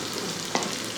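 Curry leaves hit hot oil with browned garlic in a pan, giving a steady, moderate sizzle, with one brief stirring scrape partway through.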